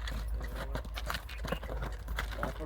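Rapid hoof clip-clops from a horse being ridden, fairly close, with a few faint voices and steady background noise underneath.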